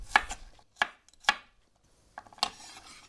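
A kitchen knife chops garlic on a cutting board for a tomato soup: a few sharp, separate knocks spaced about half a second apart, then a short pause and a final pair of close cuts, all near and distinct.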